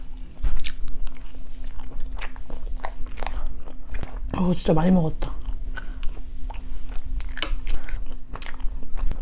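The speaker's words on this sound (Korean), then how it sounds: "꼭꼭 씹어 먹어야 돼요" Chewing and biting on buldak fire noodles with takoyaki, close-up mouth sounds with a louder crunchy burst midway, under and between casual speech.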